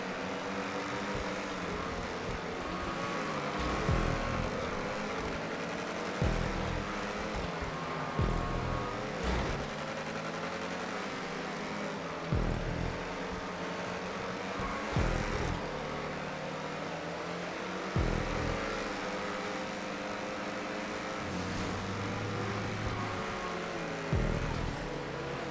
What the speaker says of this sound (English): I love these ocelots. I love the way the engine noise. They're real yeah. throaty.